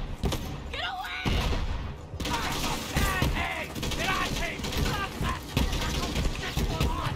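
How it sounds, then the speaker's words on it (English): Gunfire from a gun in the video game Borderlands 3, bursts of shots and thuds among game effects, with someone talking over much of it. "Always shoot headshots with this gun and you gonna have a good time."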